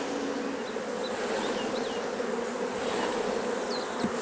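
Honey bees shaken out of a frame into a hive box hum in a dense, steady swarm drone, close and continuous, with individual bees whining past now and then.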